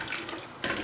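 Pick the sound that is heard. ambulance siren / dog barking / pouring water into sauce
pouring water into sauce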